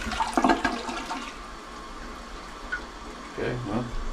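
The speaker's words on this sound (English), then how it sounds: "Here we go, flush number 1." A newly installed toilet flushes, a steady rushing swirl of water throughout, with a voice briefly heard at the start and near the end.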